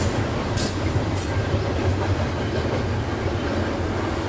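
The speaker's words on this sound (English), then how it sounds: "How many trains have come by since we've been here?" A CN freight train loaded with sea containers rolls past close by, heading toward Halifax, with a continuous heavy rumble and wheel clatter that fills the scene and no voices.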